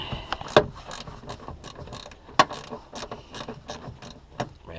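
A ratcheting wrench works on the 10 mm tail lamp bolts of a 2007 Buick Lucerne, giving a close, fast clicking that comes in short bursts, with a few sharper metallic knocks between them.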